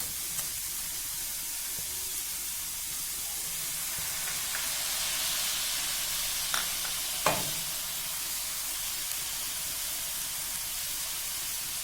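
Spices for a chicken spring roll filling frying in a pan over a low flame, a steady soft sizzle and hiss throughout with a few faint clinks of a spoon stirring, no voices.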